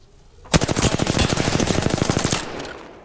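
Rapid automatic gunfire from the Apex Legends battle royale video game rattles in a dense, sustained burst of closely spaced shots lasting about two seconds, loud and close, with no talk over it.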